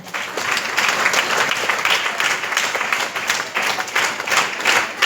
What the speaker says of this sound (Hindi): जबरदस्त क्लैपिंग